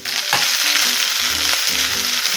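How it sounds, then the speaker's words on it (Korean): Cabbage and vegetables stir-fried in a hot wok for Korean spicy webfoot octopus stir-fry, giving a loud steady sizzle with scraping strokes of stirring throughout. "어느 정도 열이 올라오면 양배추 먼저 볶아주도록 합니다."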